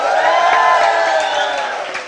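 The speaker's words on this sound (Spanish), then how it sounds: "¡Un grito de júbilo!" A church congregation raises a sustained shout of joy at an evening service, many voices cheering and whooping together in a loud, held crowd roar that slowly fades.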